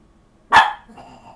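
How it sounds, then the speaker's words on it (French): A small indoor dog gives a single loud, sharp bark, reacting to children passing below, followed by quiet. "donc Gizmo va aboyer"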